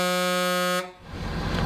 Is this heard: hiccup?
no